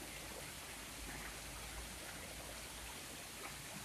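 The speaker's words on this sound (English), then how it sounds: "I'd like to build like a waterfall like this in my backyard." Steady, even rush of water from a waterfall, a constant broadband hiss with no breaks, quiet and distant-sounding, with no voices.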